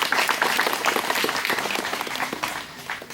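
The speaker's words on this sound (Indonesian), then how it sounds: "Tepuk tangan dong." An audience at a youth meditation gathering breaking into applause, a burst of brisk crowded clapping that peaks at once and slowly thins out over about three seconds.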